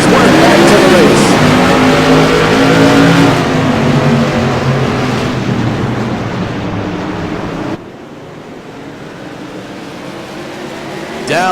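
CRA modified race cars accelerate as a pack on a green-flag restart at Martinsville Speedway, loud rising engine roar that swells then fades into the distance, with a commentator talking over it.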